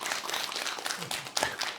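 Applause from an audience at a Korean Buddhist dharma talk, a dense patter of many hands clapping steadily for under two seconds with a brief louder burst near the end.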